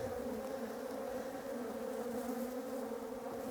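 Honey bees drone in a dense, continuous buzz at an open hive with the queen excluder lifted off, steady and close with no pauses.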